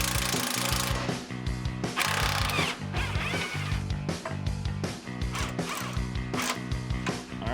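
Tools at work taking the bumper off a 1971 Chevy Caprice in a garage, loud close rattling power-tool bursts and metallic clanks in a busy, uneven rhythm, with no talk.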